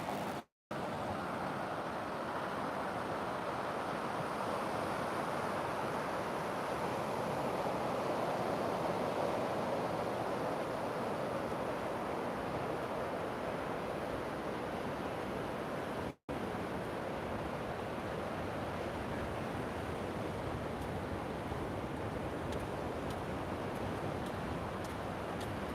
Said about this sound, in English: I'm going to take us a little bit further out here and let you hear the waves